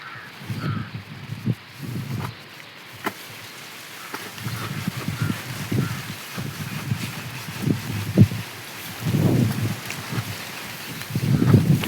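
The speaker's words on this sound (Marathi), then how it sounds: "वारा पण लय सुटलाय आज." Strong, gusty wind blowing outdoors in a village, buffeting in uneven low rumbling bursts that rise and fall over a faint background.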